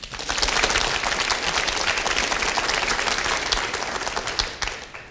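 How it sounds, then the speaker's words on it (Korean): Crowd at a televised classical music lecture on Beethoven claps warmly after a piece is played, a continuous wash of many hands swelling and then slowly easing off. "박수 한번 해주십시오."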